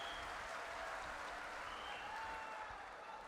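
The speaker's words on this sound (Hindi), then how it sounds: "दादा को ताली बजाओ" An audience applauds at a religious gathering, a steady wash of clapping from many hands that lasts the whole stretch and sounds somewhat distant and soft.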